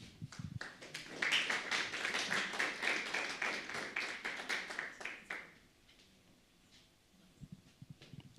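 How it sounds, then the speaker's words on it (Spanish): A church congregation at a prayer service claps to welcome the choir Nueva Alegría, quiet and somewhat distant applause running about five seconds, then dying away to near silence with a few faint sounds after. "Recibimos al coro Nueva Alegría con un fuerte aplauso."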